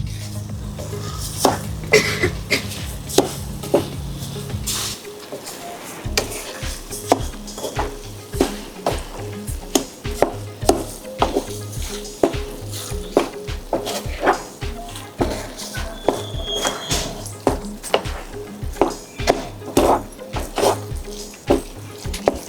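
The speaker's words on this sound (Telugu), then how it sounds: "ఇలా అంతా ఒకసారి మిక్స్ చేసేసుకోవాలి" Bread halwa with milk and sugar is stirred in a pan, a spoon scraping and knocking against the metal in a quick, steady rhythm that repeats up close throughout.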